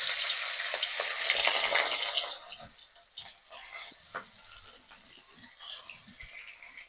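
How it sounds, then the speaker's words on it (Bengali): Pieces of rohu fish fry in hot mustard oil in a kadai, a loud crackling sizzle that suddenly drops to a softer, uneven spatter with occasional pops. "প্রথমে আমি পোনা মাছটা দিয়ে দিলাম।"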